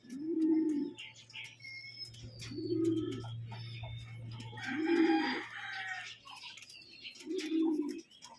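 Racing pigeons coo in slow repeated bursts about every two seconds, close by, while other birds chirp and a low steady hum runs underneath for part of the time.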